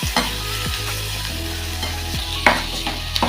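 Onions sautéing in a pan for an omelette, a steady close sizzle with a few scraping stirs of the spatula against the pan.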